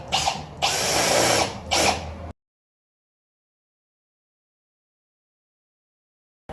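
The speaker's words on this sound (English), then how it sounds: "I cringe as they drill into ruby red metallic paint" A power drill bores into ruby red metallic painted metal on a Ford F450 while a winch bumper is fitted, two loud close whining bursts cut off abruptly, followed by silence.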